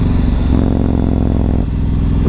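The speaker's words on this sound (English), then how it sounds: "Check out this plonker on an MT-01." A Yamaha MT-01 motorcycle passing close by, its big engine giving a loud, throbbing, low rumble that shifts pitch partway through, with no talking.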